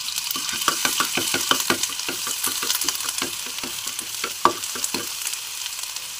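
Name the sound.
onion paste frying in hot mustard oil in a wok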